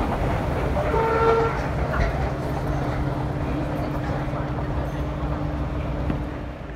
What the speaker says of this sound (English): Down here we'll find the entrance to the metro station.